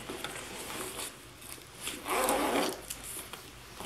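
A zipper on a full-grain leather tote bag pocket is pulled open in a quick rasping stroke, preceded by faint handling and rustling of the bag.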